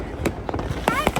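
New Year firecrackers go off in a street celebration as several sharp bursts and crackles, near and fairly loud, mixed with voices and crowd noise.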